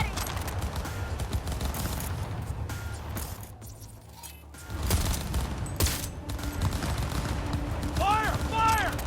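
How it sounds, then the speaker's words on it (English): Close-range gunfire in Cyberpunk 2077 crackles in loud, dense bursts and sustained volleys, briefly dropping away before resuming, with a voice talking underneath. "Firing at close range!"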